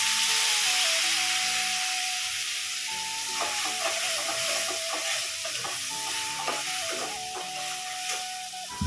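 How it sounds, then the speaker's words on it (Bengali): Onions browning in a little oil in a kadai give a close, continuous sizzle and hiss, broken by repeated scraping and clattering of a spatula as they are stirred, with a faint tonal hum underneath and no one speaking. "আমি একটা কড়াইয়ের মধ্যে তেল দিয়ে পেঁয়াজটাকে একটু বাদামি কালার করে ভেজে নিচ্ছি।"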